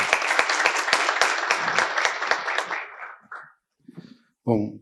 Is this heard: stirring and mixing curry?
no